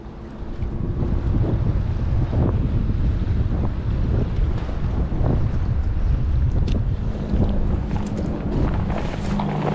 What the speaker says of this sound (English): Wind is blowing pretty hard.